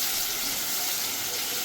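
Tomatoes dropped into a spice mix frying in a pan for a lote fish curry, a loud, steady, close hiss and sizzle that fills the whole moment without pause, with no talk over it.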